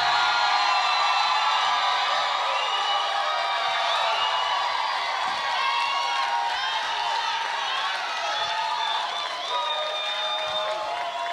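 A theater audience at a live rock competition final cheers and applauds a band, a dense, sustained wash of clapping and shouts filling the hall throughout.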